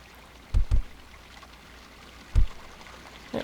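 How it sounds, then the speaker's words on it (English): A full waterfall with small streams running off its sides in the game Second Life gives a steady, even rush of water, broken by a few low thumps. "we got the full-on waterfall here, and we have little streams going off the sides of it too"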